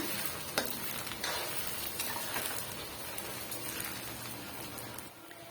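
Onions with curry leaves sizzle steadily in a hot pan, a continuous crackling fry with occasional stirring scrapes, close up and fairly loud.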